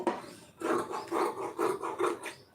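Scissors cutting a strip of blouse fabric while making a lined blouse, a series of about five close, rhythmic snipping rasps in quick succession, alone with no talking.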